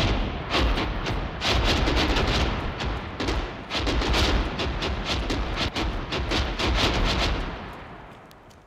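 Dense, continuous battlefield gunfire and artillery explosions in the ArmA 3 military game, jungle setting, with rapid bursts and heavy booms overlapping loudly throughout before tapering off at the end.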